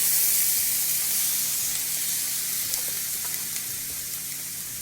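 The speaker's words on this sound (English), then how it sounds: "I'm gonna add a little bit of vegetable broth." Vegetable broth poured over vegan sausage crumble in a hot pan sets off a loud, bright, hissing sizzle that steadily eases over a few seconds.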